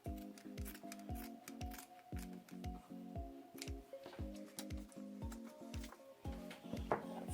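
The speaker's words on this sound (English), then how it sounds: "And then I'm going to cut across to the other side, right to the shoulder." Scissors cutting through a shirt to make a dress, a close, quiet series of regular crisp snips about twice a second with soft fabric rustle between them.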